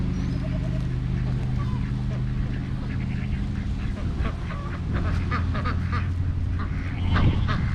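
Homestead ducks quack and honk repeatedly in a busy, overlapping chorus close by, with a steady low hum underneath and a louder burst of calls near the end.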